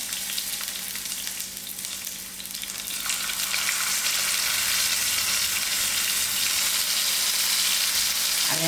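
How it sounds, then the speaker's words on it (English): Onions hit hot oil in a heavy saucepan and fry, a hiss that swells into a loud, steady sizzle after about three seconds and holds close and constant, with no voices. "I'll allow this to fry a bit."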